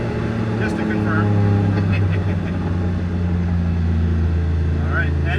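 A car cruises at 30% throttle around 30 to 35 miles per hour in first gear, its steady, close engine drone holding an even pitch while a person talks over it.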